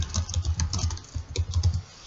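Rapid typing on a computer keyboard: a quick, uneven run of close, soft key clicks with no talking.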